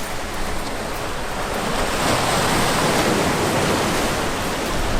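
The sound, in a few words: wind by the sea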